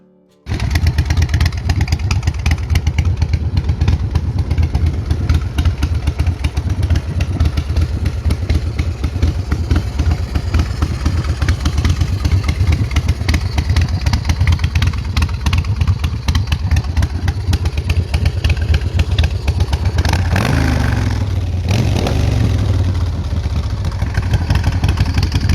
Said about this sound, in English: 2005 Big Dog Motorcycles Chopper.